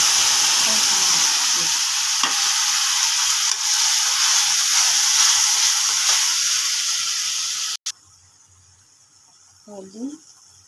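Cumin, ginger and spices frying in oil in a pan, a loud close hissing sizzle for most of the time that cuts off abruptly, leaving a quiet pause and a brief voice.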